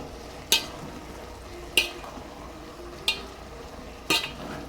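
Ghee being stirred into vegetable biryani in a pot: four sharp spoon scrapes and knocks against the pot, evenly spaced, over a low, steady background.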